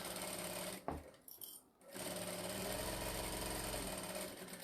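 A sewing machine stitches a faux Frolly tote bag, its steady mechanical whir running in two stretches split by a short pause, close and fairly quiet.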